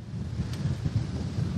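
Strong wind of around 120 to 130 km/h buffets the microphone beside a lake at Revel in Haute-Garonne, a continuous low roaring rumble with gusty swells and no voices.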